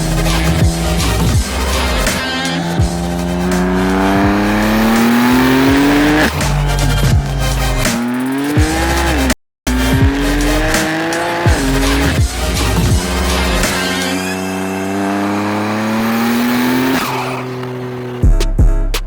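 A BMW car engine revs and accelerates through gears with rising and falling pitch, loud and close, with occasional crackles and pops from the exhaust.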